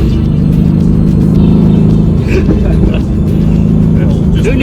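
A Mercedes-AMG GT-R accelerates with a steady, deep engine rumble that stays loud and close while people talk over it.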